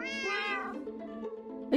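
A Minecraft cat meows in a long, drawn-out, tonal call from a video game, clear and fairly soft, followed by a brief sharper chirp at the end.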